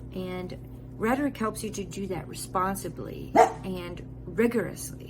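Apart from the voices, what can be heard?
dogs barking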